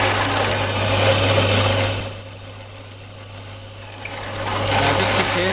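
A power drill with a 9mm bit whirs steadily, then bites into laminated wood with a rapid rhythmic chattering grind for a couple of seconds before easing back to a smooth hum.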